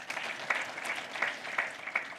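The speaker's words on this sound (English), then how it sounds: "Again, let's give them a round of applause" Graduation ceremony audience at Africa Leadership University applauding, a short, moderately loud burst of many hands clapping with a few sharper individual claps.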